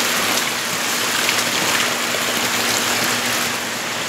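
Heavy rain pours during outdoor provincial cooking as a dense, constant hiss, loud and close, with no voices over the steady wash.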